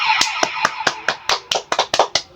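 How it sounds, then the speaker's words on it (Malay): A child claps hands about a dozen times in an uneven rhythm, each clap crisp and close, with no talking. "Tepuk tangan"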